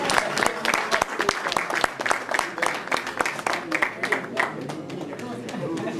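Guests at a school twinning ceremony in Cameroon, attended by the Italian ambassador, clap with sharp individual hand claps standing out above a loose round of applause and chatter, close and fairly loud.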